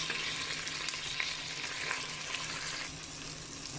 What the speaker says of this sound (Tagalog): Halo-haloin hanggang maluto ang kamatis.